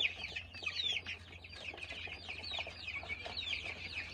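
A small flock of one-month-old Kuchinsky Jubilee chicks in a brooder, with dense overlapping high peeping and chirping running without a break under a low steady hum.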